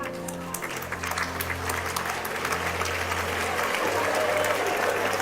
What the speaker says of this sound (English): Parents are applauding, graduates are not.